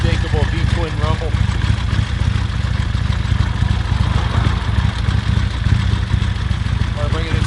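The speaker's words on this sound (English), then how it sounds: "Unmistakable V-twin rumble." Deep, steady V-twin engine rumble of a 1977 Harley-Davidson XLCR1000 Café Racer idles nearby throughout, with someone speaking over it at times.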